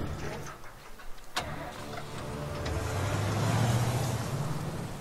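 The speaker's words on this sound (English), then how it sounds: "And start the damn truck." A truck engine cranks and turns over in The Walking Dead: Survival Instinct, then settles into a steady low rumble that swells over the last few seconds with no voices.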